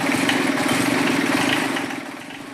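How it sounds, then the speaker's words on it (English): John Deere 755 tractor engine running close and loud with a rapid steady beat, a clicking cylinder under the drone, easing slightly toward the end. "the clicking was coming from one cylinder and became more constant"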